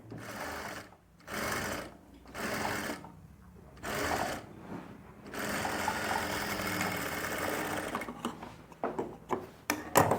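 A sewing machine stitching a dress in bursts, several short close whirring runs separated by pauses, then a longer continuous run followed by scattered clicks and taps.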